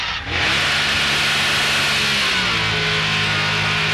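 A Grand Am race car engine, heard on board during the 2001 race at Homestead, screams at high revs, loud and close, holding a steady sustained howl throughout.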